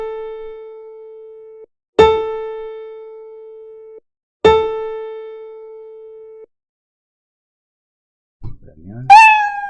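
The cat meow effect from the Scratch coding program sounds once near the end as a short, rising-and-falling electronic mew, after three sustained synthetic piano-like tones separated by silences.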